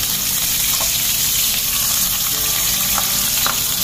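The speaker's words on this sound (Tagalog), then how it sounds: "Prito natin ang ating mga salinyasi." Steady crackling sizzle of fish frying in hot oil in a pan, continuous and close, with a few faint clinks in the background.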